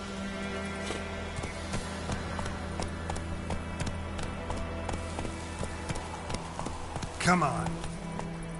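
Roach the horse gallops in The Witcher 3: The Wild Hunt, a steady run of rhythmic hoofbeats under continuous game music, someone briefly speaking over it, with a sharper burst near the end.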